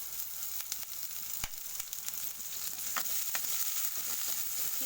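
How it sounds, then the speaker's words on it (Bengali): Onions frying in a pan on low heat for a chinri (prawn) malai curry, giving a steady close hiss of sizzling with scattered sharp pops and ticks of stirring; no talking. "তো প্রথমে আমি পেঁয়াজটাকে ফ্রাই করে নেব।"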